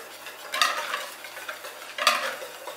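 Dry vegan cake ingredients, including sugar, are stirred in a bowl, giving soft swishing and scraping strokes, two of them more pronounced, close and fairly quiet.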